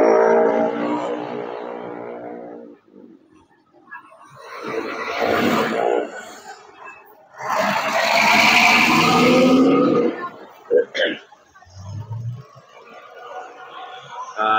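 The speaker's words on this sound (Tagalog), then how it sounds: "Nagmamadali yung motor na yun" At night, near the NLEX Connector construction on Ramon Magsaysay Boulevard, a motorcycle speeds past on the road, its engine whine swelling to a loud roar and then fading, with other traffic rumbling before and after.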